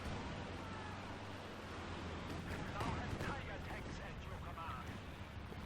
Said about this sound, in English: Stuka close air support.